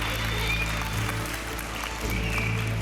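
An audience at a kids' game show applauds the seven departing participants, with steady dense clapping throughout the short stretch and a background hum.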